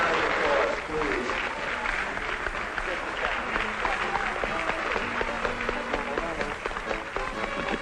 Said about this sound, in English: Let's give all of the contestants a very big round of applause, please.